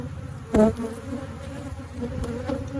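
Honey bees buzz at an opened single brood chamber hive, a steady close-up drone with one sharp knock or frame tap early on and fainter clicks later.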